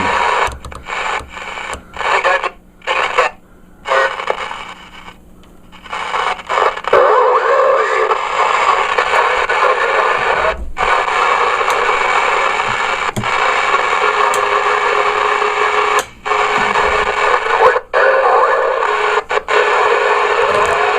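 A Cobra 29 CB radio tuned to channel 19 gives a loud, steady hiss of static and noise, broken by brief dropouts and clicks as it is adjusted; no one talks.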